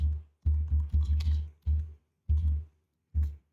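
Typing on a computer keyboard, heard as a sequence of close, low thumping keystrokes: a quick cluster of several presses, then a few isolated taps separated by short silences.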